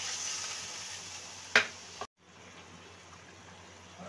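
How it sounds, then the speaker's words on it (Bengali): Water is poured into a pan of spices sizzling in hot oil, giving a steady frying hiss with a brief sharp splash burst before the sizzle drops away into a quieter, softer bubbling. "আমি এবার জল দিয়ে দিচ্ছি।"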